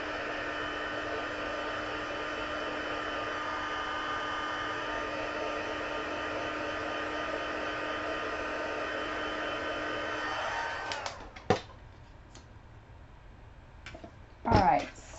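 A heat tool or hair dryer blows over damp watercolor paper at a crafting desk, a steady close whirring hum that runs for about eleven seconds, then cuts off, followed by a few faint clicks and handling knocks.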